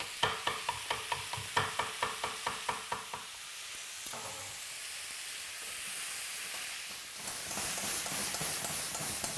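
Vegetables and chili being stir-fried with noodles: a quick run of rhythmic scraping stirs in a hot pan, then a continuous close sizzle and hiss that builds again near the end, with no talking.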